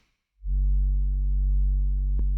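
Self-oscillating synth filter on an analog mode emitting a steady, loud sine tone at the cutoff frequency, fading in after a brief silence and holding with a faint click near the end.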